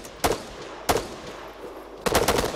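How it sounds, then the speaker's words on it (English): Heavy gunfire in a military shooter video game: three loud, sharp bursts of shots, two short single blasts followed by a longer rattling volley, close and alone with no talk. "Receiving heavy fire."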